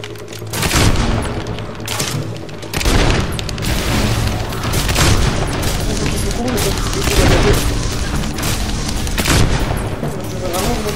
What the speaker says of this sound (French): Ouais, il a explosé lui.